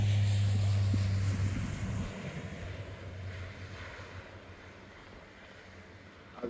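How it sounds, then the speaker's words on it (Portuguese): A small passenger airplane takes off on the short inter-island flight from Flores to Corvo in Portugal, with a loud steady engine drone at first that fades into a fainter rushing roar with wind noise. "temos um avião a decolar"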